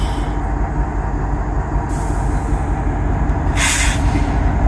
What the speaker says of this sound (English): Oh, we got a train in this morning,